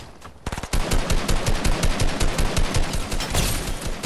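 Gunfire in the Fortnite video game, a rapid burst of sharp shots that starts after a brief pause and keeps up in a fast, steady rhythm, loud and close.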